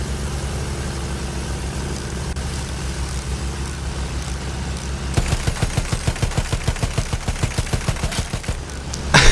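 In a World War I Battlefield 1 match, an anti-air gun pounds out a rapid, regular burst of heavy shots over the steady drone of an aircraft engine, the rhythmic firing starting midway and continuing to the end.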